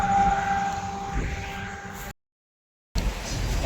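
Ambulance siren on the road, a sustained wailing tone over traffic rumble that cuts out abruptly for a moment before the road noise returns.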